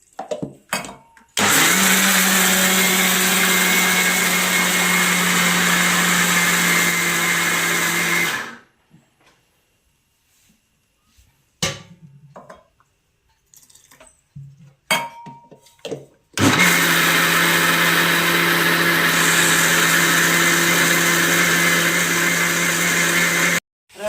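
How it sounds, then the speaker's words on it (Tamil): Mixer grinder grinding pepper and red chillies for adai batter, two long loud whirring runs, the first of about seven seconds and the second of about eight, split by a quiet pause with small clicks and knocks. "மிளகு, சேப்ப மிளகாய் இதெல்லாம் சேர்த்து அரைக்கணும்."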